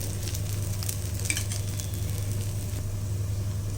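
Thin dosa batter sizzles on a hot pan in a steady, even hiss that holds at moderate loudness throughout, with no talking.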